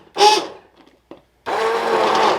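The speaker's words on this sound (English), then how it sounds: "I'm going to puree this with my immersion blender here." An immersion blender purées Brussels sprout soup with bacon and onion: a short whir starts and stops, then the motor runs steadily and loudly for about a second, with a brief clunk between.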